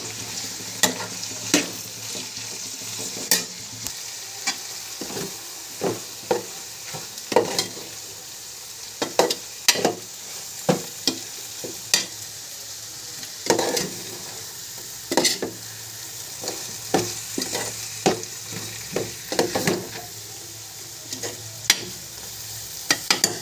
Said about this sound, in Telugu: ఇటువైపు కాలీఫ్లవర్ అవుతుంది, ఇది బాగా మగ్గాలి, ఇంకా వేగాలి.